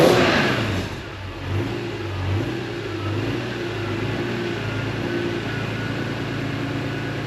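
A BMW E46 M3 engine revs with a CSL airbox intake, a loud rising roar at the start that settles into a steady droning hum, with no talking.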